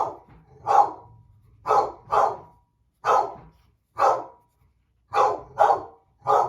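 Dogs bark in single and paired woofs spaced about a second apart, moderately loud and fairly close, with quiet gaps between them.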